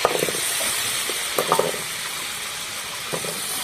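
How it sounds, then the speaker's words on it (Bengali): Pieces of taro fry in hot oil in a pan, a close, steady sizzle broken by a few soft stirring scrapes and clinks. "কচুটা ভালো করে ভাজবো"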